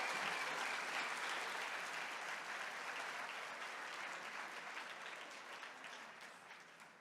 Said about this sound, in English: let's give it a little round of applause for how cute they are